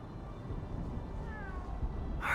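A cat meows during a cutscene in the video game Spider-Man: Miles Morales, a short clear call rising near the end over a steady bed of game music and ambience.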